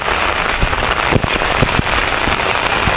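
Steady rain patters on a surface, dense and close, with a few sharper drops or taps standing out now and then.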